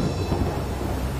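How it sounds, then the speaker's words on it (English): A big, blustery thunderstorm rumbles in a Trainz railway animation, a dense, loud roar of thunder and rain that holds steady throughout. "that night, there was a big and blustery storm"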